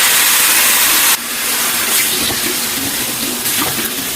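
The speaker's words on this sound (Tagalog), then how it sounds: "isusunod ko na ring igisa itong marinated pork" Marinated pork hissing loudly in a hot pan of garlic and onion, a dense steady sizzle close by with a sharp rise where the meat goes in, no voices.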